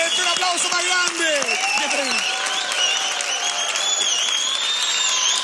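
A TV game show studio audience applauding steadily, mixed with cheering and lively voices talking over it.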